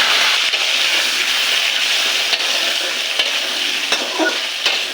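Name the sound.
potatoes frying in oil with cumin and bay leaf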